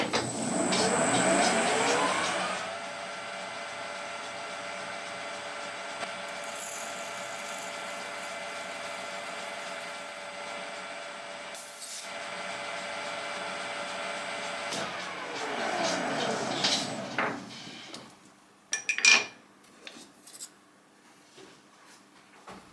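A drill boring a 4.3mm relief into a metal coupler for a radar antenna, a steady high machine whine held for about fifteen seconds, then winding down, followed by a few light clicks and taps.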